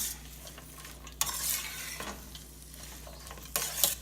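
Lima beans are stirred in hot oil, a soft sizzle punctuated by scraping, rattling stirs at irregular intervals, fairly quiet and close.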